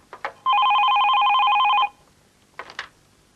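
A telephone in a home rings with a steady electronic trill lasting just over a second, loud and close, with brief faint sounds just before and after it and no talk.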